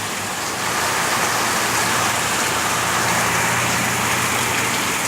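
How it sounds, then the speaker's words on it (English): Heavy rain pours down on the Fourth of July in a loud, steady hiss of dense drops that stays constant throughout, with no voices. "Huge amount of rain."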